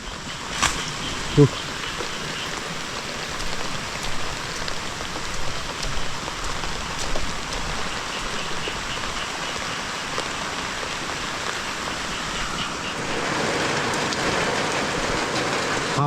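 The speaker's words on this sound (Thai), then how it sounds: "มาฝนตกเลย" Steady rain falls throughout, a dense hiss of drops on surfaces, growing slightly heavier near the end, with a couple of faint clicks early on.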